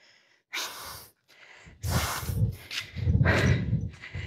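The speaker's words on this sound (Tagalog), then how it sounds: "Hingal na hingal tayo." A hiker climbing a trail near a view deck in Mountain Province breathes hard and close, with harsh gasping pants that grow louder and faster toward the end.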